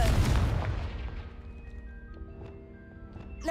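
A Confringo fire spell detonates in Hogwarts Legacy, a loud booming blast at the start that decays into a rumbling tail, with faint magical chimes and tones ringing afterward.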